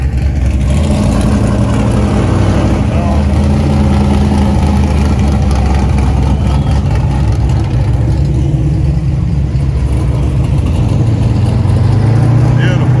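A Chevrolet C10 truck rolls by at a car cruise, its engine a continuous mid-loud rumble that swells slightly toward the end, with a spectator talking over it.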